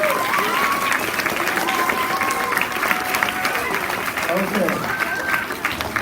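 An elementary school audience at an oral language festival applauds a group of boys, loud continuous clapping with some cheering while voices carry over it and someone briefly speaks.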